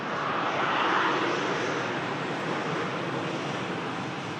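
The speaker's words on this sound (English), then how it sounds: "Ryanair just jumping in on the shot, arriving in from Barcelona" A Ryanair jet arrives at Manchester Airport from Barcelona, its engines giving a steady, broad roar that swells slightly near the start and then holds at a constant level, alone and with no talk.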